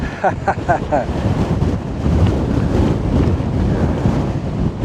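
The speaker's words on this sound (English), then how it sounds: "It really helped break the wind." Strong wind buffets a hiker on the Appalachian Trail, roaring loud and continuous against the microphone, with brief indistinct voices near the start.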